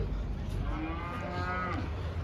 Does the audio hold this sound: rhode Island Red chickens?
no